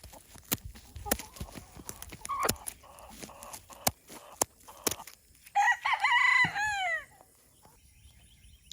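A hen or rooster crows loudly near the end after a stretch of sharp clicks and knocks, with clucking sounds in a backyard garden setting where a chicken is being handled for wing clipping.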